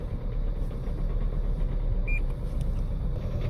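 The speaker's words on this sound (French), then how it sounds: "Mise en marche du véhicule." A car engine with a faulty injection runs steadily after starting, a close continuous low rumble with a brief beep partway through, no talk.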